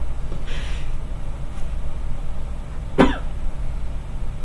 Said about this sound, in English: You come to my clinic and you start coughing?